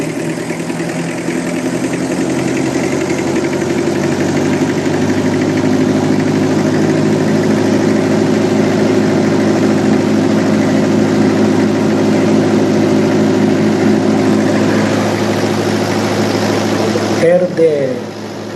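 An engine runs steadily on a test bench in an engineering lab, a loud continuous mechanical drone with a brief shift in tone near the end as the throttle is adjusted.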